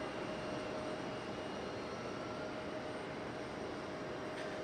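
A United jet airliner rushes past at Raleigh-Durham International, a continuous, even jet roar holding steady from start to finish at moderate distance, with no voices over it.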